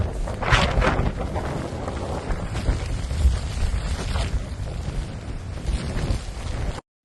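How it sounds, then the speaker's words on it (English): A powerful blizzard wind during a Russian snowstorm roars continuously with heavy buffeting gusts close to the microphone, dense and loud throughout. "The wind is 25 to 30 meters per second"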